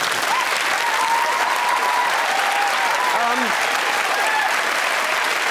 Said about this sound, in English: Let's have a pointless round of applause there,